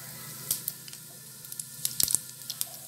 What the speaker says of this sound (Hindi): अब इसी बचे हुए तेल में मैं डाल रही हूँ सबसे पहले जीरा